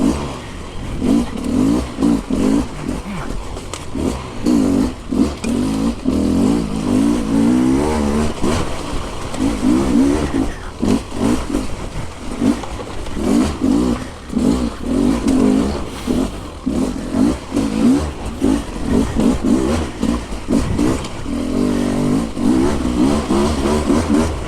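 A KTM EXC enduro motorbike on a trail ride, its engine revving hard and continuously with rising and falling throttle, loud and close, with clattering from the bike over rough ground.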